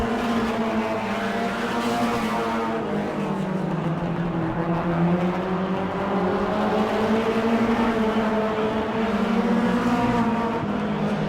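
Race cars at Auburndale Speedway roar around the track in a continuous loud drone of engines, pitch rising and falling as the pack circles, with no talk over it.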